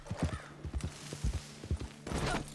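Horse hooves clip-clop steadily in Red Dead Redemption 2 Online, a close, even trot of repeated hoofbeats that ends in a brief rushing burst of noise.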